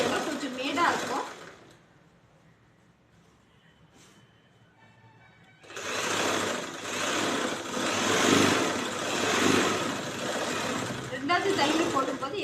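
A sewing machine runs in quick continuous bursts while stitching a blouse, loud and close, with a quieter pause between runs; someone talks over and between the stitching.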